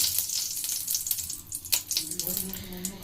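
Roti frying in a pan while soybean egg rolls are made, a soft steady sizzle with a few stirring and clattering touches, fairly close and alone.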